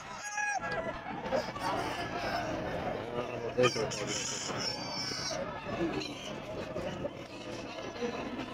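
Chickens cluck and a rooster crows amid a busy Grotto pet market, where white claret, yellow-legged gamefowl are sold, with the birds' calls scattered through steady crowd noise and nearby talking.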